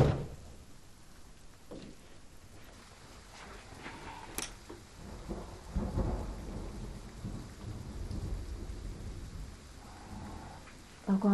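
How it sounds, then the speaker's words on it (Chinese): Heavy rainstorm with a steady wash of rain and scattered thunder cracks and rumbles, fairly faint and distant-sounding, with rain swelling midway. "下暴雨了"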